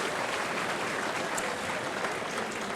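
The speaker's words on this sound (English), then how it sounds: "Let's give him a big round of applause." An audience at a softball hall of fame induction ceremony applauds a piper, with dense, steady clapping that stays even and fairly distant throughout.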